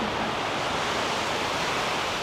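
Ocean waves wash onto a beach at low tide in Hoi An, Vietnam, a loud, steady rush of surf that fills the whole moment without pause or speech.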